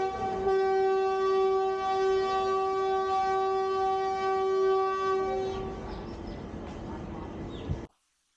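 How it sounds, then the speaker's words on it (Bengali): A Mitali Express train waits at a station on the Dhaka to Darjeeling route, giving a loud, sustained horn blast over a low rumble for about five seconds before the sound fades into noise and cuts off. "এই যে মিতালি এক্সপ্রেস ট্রেনটি দাঁড়িয়ে আছে"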